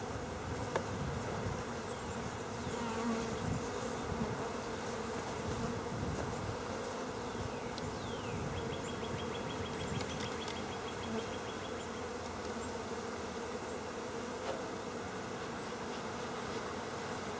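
Honey bees buzz steadily and densely throughout a spring hive inspection of a new colony, a continuous close swarm hum with no speech over it.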